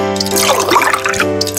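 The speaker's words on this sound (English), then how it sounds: "Then pour in half a cup of melted butter." Melted butter poured in a cooking video game, a short liquid trickle and fill sound over a steady musical background tone.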